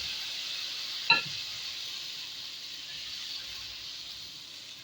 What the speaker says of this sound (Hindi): मैं अब तड़का लगा दूंगी इसके अंदर, कड़ी के अंदर।